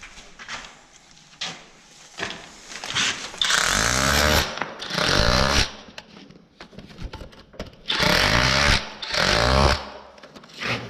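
A rotary hammer roars in repeated loud bursts separated by quieter pauses, grinding hard into a masonry wall close by while cutting a socket box hole.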